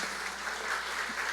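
A church congregation claps together in a dense, even burst of applause, close and sustained through the whole brief moment.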